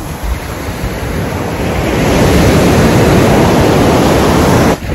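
Sea waves wash up loudly on a Mexican beach in a broad rushing roar that swells and holds, mixed with gusty wind buffeting a nearby microphone.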